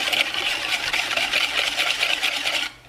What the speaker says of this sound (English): You just whisk this baby on up.